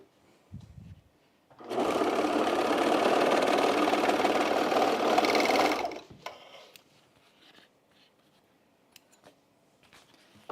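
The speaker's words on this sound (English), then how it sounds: "So I never do it on the serger, but I will today" A serger stitches the bottom of a jeans fly extension in one steady, fast, buzzing run of about four seconds. Quiet handling and rustling of the denim come before and after it.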